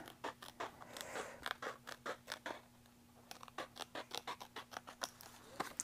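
Scissors trimming a paper craft piece for a retro bus build, a run of crisp, rhythmic snips, close and fairly quiet, with a short pause midway before the cutting resumes.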